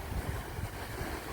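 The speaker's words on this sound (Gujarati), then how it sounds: "નદી વહી જાય છે ખડખડાટ મારતી." A river swollen by rain rushes and churns along a rural route in Gujarat during the monsoon, giving a steady, close, full-bodied roar of moving water with wind buffeting the microphone and no voices.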